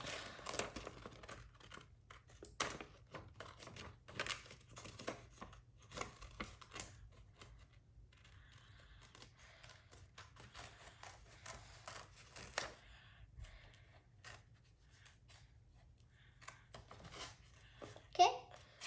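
Scissors cut out a paper card in quiet, irregular snips and rustles spread across the clip, faint and close, with a voice speaking softly now and then.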